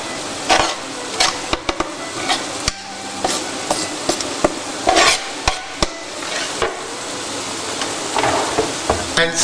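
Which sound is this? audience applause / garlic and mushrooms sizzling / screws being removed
garlic and mushrooms sizzling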